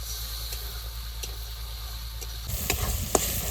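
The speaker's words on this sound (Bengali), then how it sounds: "মশলা প্রায় ভাজা হয়ে গেছে" Spice paste frying in a wok-style pan, sizzling steadily with a touch of water added, then a burst of louder stirring scrapes and clacks near the end, close and alone with no talk.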